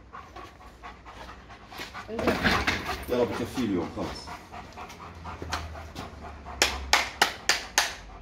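A large German Black dog pants in rapid bursts at close range, with a person speaking over it and a few sharp knocks or claps near the end.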